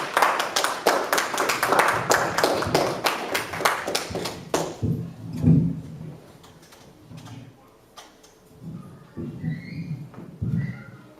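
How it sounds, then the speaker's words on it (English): A church congregation claps for Tim in a loud burst of many hands that thins out after about four seconds, leaving scattered claps, shuffling and faint room noise. "let's give Tim a round of applause."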